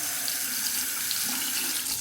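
Steady tap water runs into a sink while a straight razor is rinsed during a shave, a continuous close hiss with no voices.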